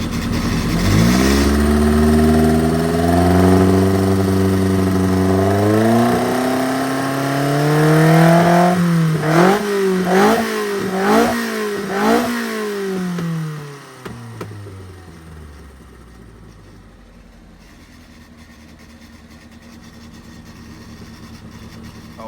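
An engine revving hard on a dyno through a new throttle linkage in a series of sharp, rising and falling bursts, loud and close, then settling back to a steady idle.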